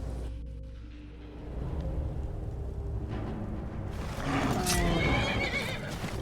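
Skyrim's black horse Shadowmere whinnies loudly up close while hooves clop over rough ground, with a second neigh rising later amid in-game ambient rumble.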